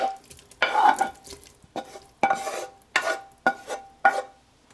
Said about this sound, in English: So into the pressure cooker I'll add all my meat.